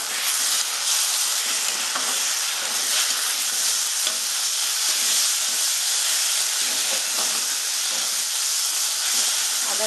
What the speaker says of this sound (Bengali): এবার আমি এতে একটু আদা রসুনটা দিয়ে দেবো।